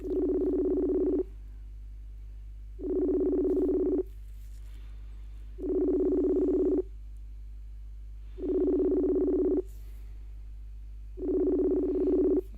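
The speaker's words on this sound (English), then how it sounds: "It's ringing." A telephone ringing tone repeats five times in long, evenly spaced buzzing bursts with silent gaps, steady and clear, with no voices.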